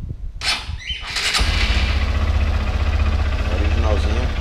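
Motorcycle engine with its original exhaust and a sports air filter, starting up after a sharp squeal and settling into a steady, close, rumbling idle; someone talks over it.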